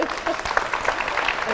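Audience applause at an Inspiring Women event at UWS in Paisley, a dense, steady patter of many hands clapping at close range, with a voice faintly underneath.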